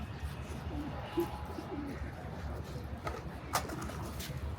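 Soft, low pigeon coos, a few murmuring calls rising now and then over a steady background hum.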